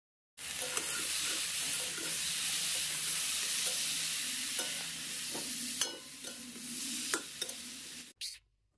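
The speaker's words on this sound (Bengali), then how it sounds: "তো এখন কুচনো শাকগুলো আমি কড়াইতে দিয়ে ভালো করে ভেজে নেব।" Chopped greens fry in mustard oil with onion, garlic and green chilli in a kadai wok. A steady, close sizzle runs for about eight seconds, broken by a few stirring clicks, then cuts off.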